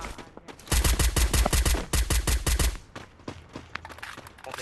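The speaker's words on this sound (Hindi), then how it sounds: "किधर है स्नाइपर कौन चला रहा है बताओ" Rapid bursts of gunfire ring out in a Free Fire battle royale match, a dense run of sharp shots followed by scattered quieter pops; no talk.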